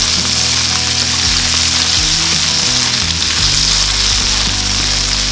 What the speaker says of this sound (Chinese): 接着放入蘆筍拌炒